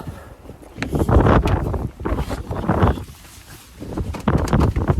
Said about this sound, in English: looks like a blizzard sitting, like, looking out there in some of these gusts